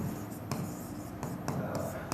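Marker or chalk writing on a board during a maths lesson, heard as close, steady scratching strokes with several sharper taps, quiet and without talk.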